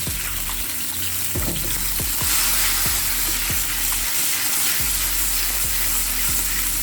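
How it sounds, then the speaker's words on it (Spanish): Green and red peppers frying in olive oil in a pan, a constant close sizzle broken by a series of sharp knocks and scrapes from stirring, spaced irregularly across the span. "tengo aceite de oliva en la sartén y voy a proceder a adicionarle el pimiento verde"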